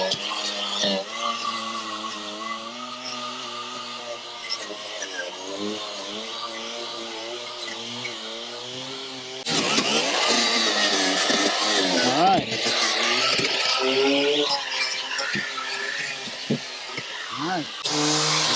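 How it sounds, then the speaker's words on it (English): Angle grinder cleaning a seam on a metal roof, a loud, sustained whining grind with shifting pitch that grows harsher about halfway through and continues to the end, with no speech over it. "that is just cleaning it with a grinder"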